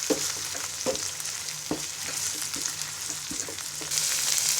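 Tomato, green chili and onion pastes fry in hot oil with a steady, close sizzle. Occasional soft knocks and scrapes come from stirring, and the hiss swells slightly toward the end.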